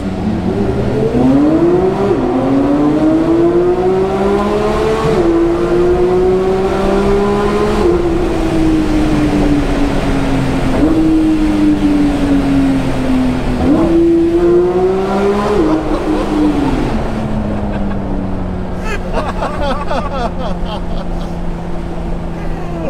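A Porsche 992 GT3 engine revs hard, its pitch climbing repeatedly through gear changes, loud and close, with faint voices underneath near the end.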